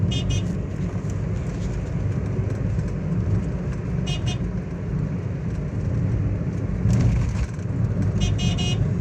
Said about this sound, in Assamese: আমাৰ হৰ্ণ যে একেবাৰে মাইকী হৰ্ণৰ নিচিনা মাতে নাই